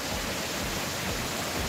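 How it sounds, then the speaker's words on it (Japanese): A waterfall lit up at night roars with a steady, dense rush of falling water, continuous and unchanging across the moment. "滝ですね、おーすごいな。"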